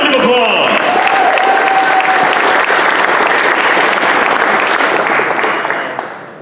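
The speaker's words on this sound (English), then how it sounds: "Round of applause." A full room at a computer security talk breaks into loud, close applause as a speaker is welcomed to the stage. Dense clapping holds steady for about six seconds, then tapers off at the end with brief voices underneath.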